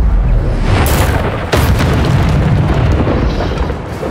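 A fire spell cast in the Hogwarts Legacy video game, a loud booming whoosh with two sharp bursts over a steady roaring rumble, continuous and close throughout.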